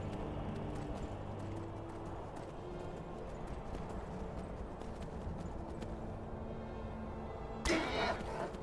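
A horse's hooves clip-clop rhythmically in the video game Skyrim, a steady trotting beat at moderate volume over ambient game sound, ending with a short, louder noisy burst near the end.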